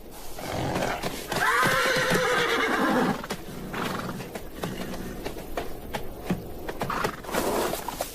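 Wild horses in Africa's desert neigh loudly in a long, ringing whinny, followed by further snorts and calls amid soft hoof clip-clop and shuffling, recorded outdoors with no talk.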